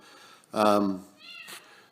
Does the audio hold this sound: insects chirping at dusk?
no